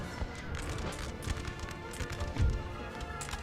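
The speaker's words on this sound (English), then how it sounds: "Oh, that's the cannons moving forwards?" Artillery moving forward across the field in Napoleon: Total War gives off a steady clatter of hooves and rolling wheels, with irregular thumps and a louder knock partway through.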